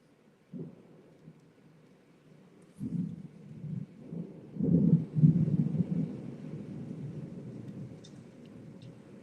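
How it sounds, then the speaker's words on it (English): Deep rolling thunder from a thunderstorm rumbles in several swells, starting with a low growl and building to a louder, drawn-out peal that slowly fades, with faint rain in the background. "Hear that thunder?"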